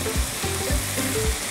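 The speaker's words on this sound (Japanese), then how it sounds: "弱くしてからゆっくり炒めて、唐辛子の臭みが少しあるんですけど、それを飛ばす。" Korean chili powder frying slowly over low heat in a pan for budae jjigae, a steady close sizzle broken by low scraping stirs about every half second, with no one speaking.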